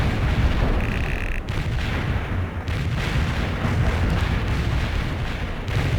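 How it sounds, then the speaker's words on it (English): A light artillery barrage in a military video game, a loud, continuous rumble of overlapping booms and blasts with no break. "Light artillery barrage fired at coordinates."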